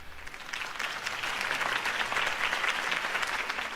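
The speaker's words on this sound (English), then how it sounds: "could have heard that applause" Crowd applause from the Batman Telltale video game, a dense, steady wash of clapping at moderate volume that holds evenly throughout without any voices.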